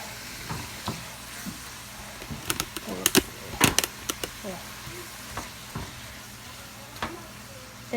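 Spicy fried spaghetti sizzles and caramelizes in a pan under a steady low frying hiss, broken by sharp scraping and clattering stirring strokes, loudest around the middle.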